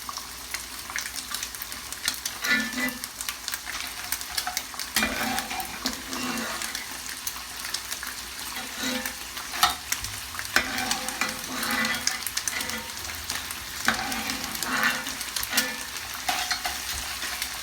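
Goat meat sizzles in a hot pan while a spatula stirs and scrapes, with occasional clatters over a constant crackling hiss.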